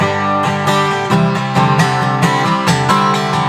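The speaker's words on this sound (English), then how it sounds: "This is the guitar by itself." An electric guitar played dry through a TC Helicon Harmony V100 amp at low master and channel volume, strummed chords ringing with rhythmic changes, clear and close with no talking.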